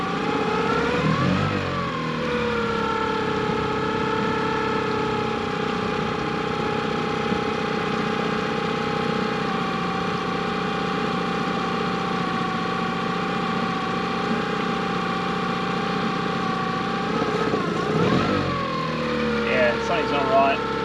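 A sailboat's outboard motor revs up and holds a rough, uneven drone, running poorly and suspected of a fuel blockage, with steady engine noise throughout and a brief louder swell near the end.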